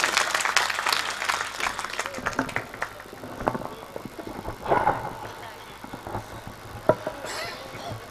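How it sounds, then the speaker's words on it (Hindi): An audience at a mushaira, a poetry gathering in Sathi, Champaran, Bihar, claps to welcome a poet, a dense wash of applause that thins out over several seconds, with scattered claps and crowd noise lingering. "अब मैं चाहता हूँ कि एक बार इनके तो इस्तकबाल में आप तालियां बजा दें।"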